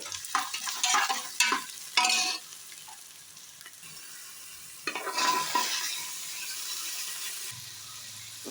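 Tomatoes sautéing in a pan, with soft sizzling and bursts of stirring scrapes early on, then a steadier hiss of frying; no talking, moderately close.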